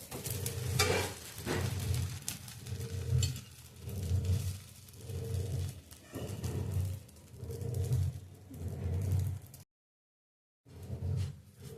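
A dosa fries in oil on a pan after being flipped, its sizzle swelling and fading in a regular rhythm. A brief gap of silence comes near the end.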